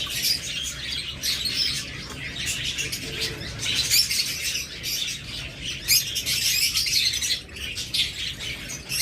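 A breeding pair of pet budgerigars, a yellow-wing male and a green opaline female, chirp and tweet continuously at close range, with busy high-pitched calls, squawks and the occasional wing flutter layered throughout.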